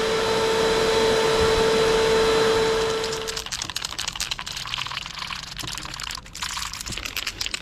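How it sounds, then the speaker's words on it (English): A vacuum cleaner whines loudly and steadily for a few seconds in a yard, then shuts off and winds down, leaving scattered rustling and clicking sounds. "Let's vacuum up my yard a little bit."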